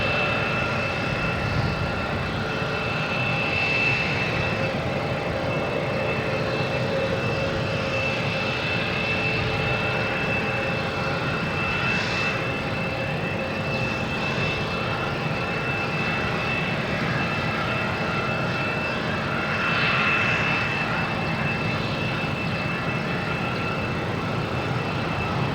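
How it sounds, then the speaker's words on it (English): A Southwest airliner bound for Denver takes off at Boston Logan, its jet engines making a continuous, even roar with a steady high whine running over the whole stretch, heard alone without voices. "next taking off, we have a Southwest heading to Denver"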